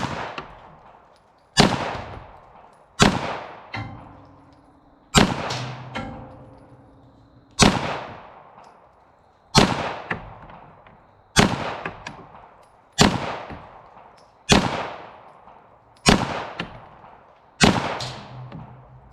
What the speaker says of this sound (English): we're going to take this Beretta M9 here, 9mm, and we're going to shoot this pumpkin